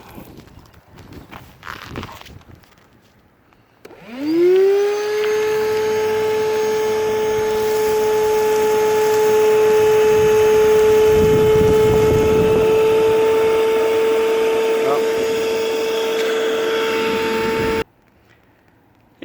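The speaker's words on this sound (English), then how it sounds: "my vacuum hose got plugged up for a second there" Vacuum motor whining with its hose plugged, starting after a few seconds of clattering footsteps, then a loud steady high-pitched tone that holds for over ten seconds before cutting off abruptly.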